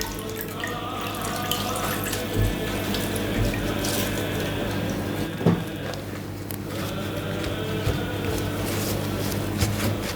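A kitchen tap runs steadily over baking paper being wetted to line a cake form for Bucovina-style pască, a continuous splashing hiss with occasional louder drips.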